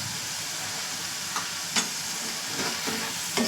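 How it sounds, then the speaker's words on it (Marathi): Tomato gravy poured into hot oil for a chicken liver masala, giving a steady broadband sizzle with a few brief louder bursts of spattering and stirring, close up with no voices. "तर हे छान तेल सुटायला लागलं तर आपण त्यामध्ये टाकणार टोमॅटोची ग्रेव्ही"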